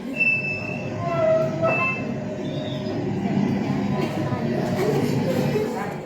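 A train rolls past a level crossing nearby with loud rumbling and high metallic wheel squeals, continuous throughout.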